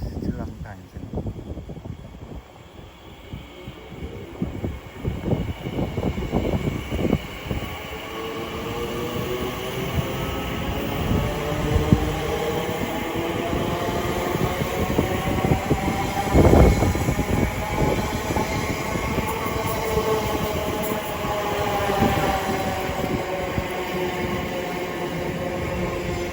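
An Elizabeth Line train at Shenfield station rolls through with a rising, sustained rumble and whining motor tones, clicking wheel thumps early on and a brief squeal, as a station announcement voice speaks over it.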